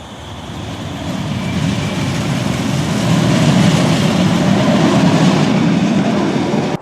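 A Manchester Metrolink tram on the former railway line at Prestwich station runs past with a steady low rumble and rhythmic wheel clatter, loud and close, swelling slightly midway before cutting off abruptly.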